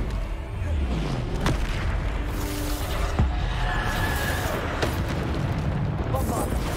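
Bombarda explosion spells in Hogwarts Legacy go off as several sharp booms and impacts amid busy combat noise over about seven seconds.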